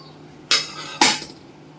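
Two sharp clinks of a utensil against a dish, about half a second apart, as chana chatpate is served. Both are close and fairly loud over a faint steady hum, with no talking.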